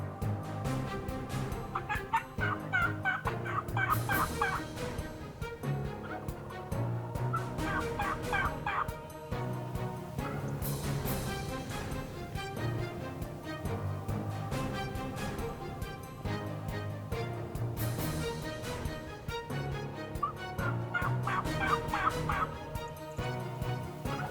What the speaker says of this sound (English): I blew that cow howler, turkeys gobbled, and I knew we were in business.